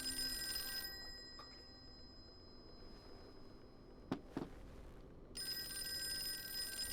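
Old-fashioned telephone bell rings in two long trilling bursts separated by a quiet gap with a couple of clicks, moderately loud and with no voices over it.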